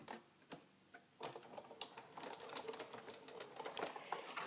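A Big Shot die-cutting machine is cranked to cut paper, with faint, uneven ratcheting clicks and soft mechanical ticks in close, quiet succession.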